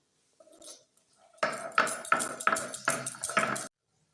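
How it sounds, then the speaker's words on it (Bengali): Ginger and raisins are ground on a traditional stone slab, a series of about six hard, rhythmic scraping knocks of stone on stone, close and fairly loud, after a few faint soft sounds. "এবার আমি আদা আর কিশমিশটা বেটে নিচ্ছি পাটায়"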